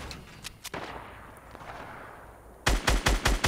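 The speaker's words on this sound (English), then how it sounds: "They're shooting at us through the freaking trees." Fortnite Battle Royale gunfire: a few scattered shots that die away, then several loud, close rapid bursts of automatic fire near the end.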